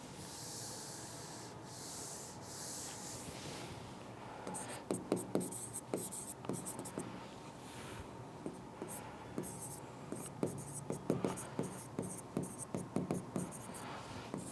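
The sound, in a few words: writing on a board during a lecture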